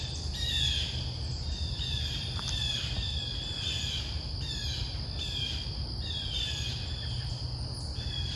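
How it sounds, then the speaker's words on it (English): Birds call from a front yard with repeated bright chirps every second or so, over a dense, continuous drone of insects or crickets. No voices are heard. "that's the birds in the front yard telling me it's time for breakfast"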